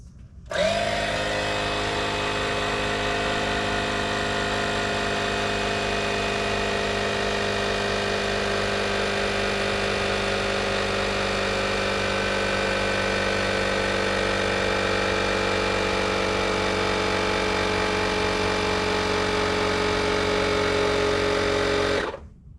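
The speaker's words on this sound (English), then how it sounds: "just hook up an air compressor to here and see if it holds air before we install everything" An air compressor runs steadily while inflating the rear air bags on a Silverado truck, a loud continuous motor drone with a whining mechanical tone that starts abruptly, holds for about twenty seconds, then cuts off.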